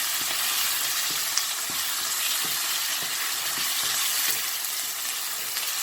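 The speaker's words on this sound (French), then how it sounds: "je vais mettre nos poivrons. Je remue légèrement." Shrimp and bell peppers fry in a pan with a constant loud sizzle while a utensil stirs them, leaving soft regular scraping taps roughly every half second, without speech.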